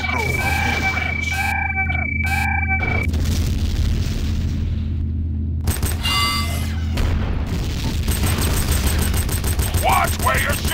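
Dense Tribes 2 capture-the-flag battle gunfire and explosions, continuous booming blasts and rapid shots with whooshing projectiles throughout, loud and layered, with radio-style voice callouts over the combat.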